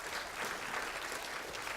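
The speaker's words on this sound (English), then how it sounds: "I'm glad you clapped, but you might not be glad you clapped." A church congregation applauds with steady, dense clapping that holds at an even level throughout, with no voices standing out.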